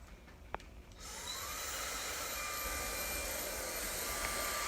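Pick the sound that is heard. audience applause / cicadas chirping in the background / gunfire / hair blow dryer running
hair blow dryer running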